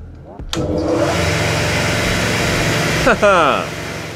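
A panel saw's electric motor starts and runs after its phase wiring is swapped, giving a steady loud hum and whine across the clip with a brief start transient near the beginning; a voice speaks over it near the end.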